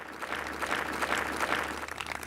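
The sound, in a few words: audience applause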